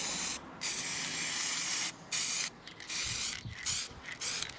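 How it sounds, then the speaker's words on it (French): Spray can painting the inside of a small box, several loud close bursts of hissing spray, each lasting about a second or more, separated by brief pauses. "Et je vais la bomber, voilà,"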